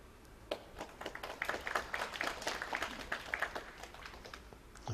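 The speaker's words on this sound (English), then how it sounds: "Applause for a good safety, which it was." Snooker audience at the 2013 Shanghai Masters first-round match between Shaun Murphy and Yu Delu applauding a safety shot, soft scattered clapping that builds then thins out, faint and distant.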